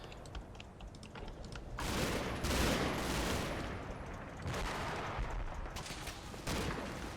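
Gunfire rattles in a video game skirmish, bursts of distant automatic shots and crackling fire rising and falling over several seconds beneath a faint background of key clicks, with no talk.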